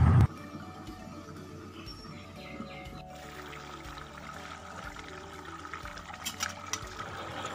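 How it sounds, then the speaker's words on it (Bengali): Hot water poured into a pot of mutton curry, a continuous splashing pour under a low, steady background, with the flow growing fuller partway through. "দিয়ে দেবো গরম জল"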